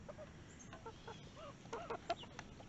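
Hens cluck softly in short, scattered bursts, with a few sharper calls toward the end over a faint outdoor background.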